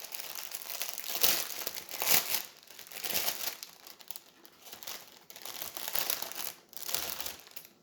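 Embroidery threads are unwrapped from paper, giving a close run of crisp crinkling and rustling in uneven bursts, with short pauses between handling.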